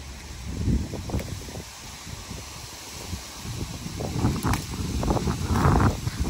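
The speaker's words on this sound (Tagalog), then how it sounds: "malakas kasi yung hangin" Strong, gusty wind blowing outdoors in a UK garden during a green bean harvest, buffeting the microphone with rumbling low gusts that swell toward the end, with rustling mixed in and no speech.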